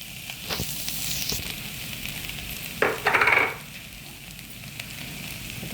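Sautéed vegetables for a vegetarian rice-and-curry dish sizzle steadily in a pan, a few close scraping stirs and one louder hissing burst midway breaking the even frying noise; no one speaks.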